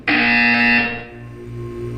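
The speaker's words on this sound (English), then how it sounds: "You will hear a buzzer." A loud electronic buzzer from the video game Portal 2 sounds once, a steady harsh tone lasting under a second before dropping away to a low hum.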